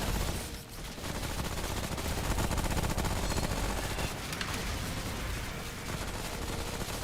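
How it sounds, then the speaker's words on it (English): An automated turret deployed in the game Remnant: From the Ashes fires in sustained rapid bursts, a dense, loud chatter of gunfire that runs nearly unbroken from start to finish with only a brief dip early on. "Putting down a turret."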